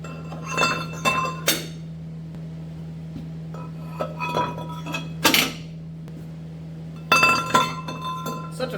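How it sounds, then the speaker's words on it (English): Engine cylinder liners test-fitted into the block of a John Deere 4020 tractor engine during an overhaul, bright metallic clinks and rings in short clustered bursts with quiet gaps between, close and alone under a steady low hum. "throw the liners in, test fit them, see where we wind up with that"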